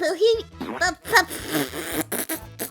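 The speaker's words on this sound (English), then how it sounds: "He's busy farting everywhere." Repeated low, buzzing fart noises sound in short bursts, close and fairly loud, mixed in with someone talking and chattering over them.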